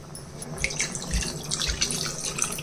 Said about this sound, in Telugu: 1 గ్లాసున్నర నీళ్ళు పోయాలండి